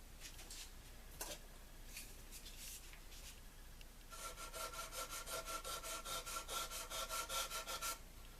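Sandpaper rubbing over the rough edges of fret grooves on a mandolin fingerboard during a fret replacement, a soft scratchy scrubbing that turns into steady, louder rhythmic back-and-forth strokes in the second half, close and alone.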